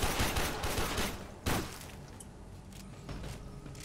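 Sustained volleys of gunfire in the Warframe video game, a dense rattling barrage with a sharp burst near the middle, continuing steadily throughout without talk.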